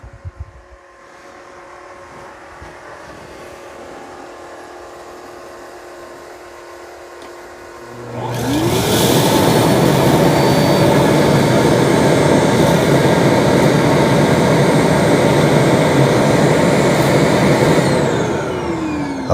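After a quiet stretch with faint mechanical shuffling, the Eureka E10s robot vacuum's docking station kicks on with a sudden, loud, steady suction roar to empty the dustbin, holding at full strength to the end.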